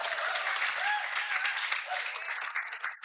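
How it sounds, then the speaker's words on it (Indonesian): Applause from a studio audience on an Indonesian evening TV talk show, a thick steady wash of clapping with faint tonal sounds and murmuring mixed in, tapering slightly near the end. "Beri tepuk tangan untuk Desi Ratnasari."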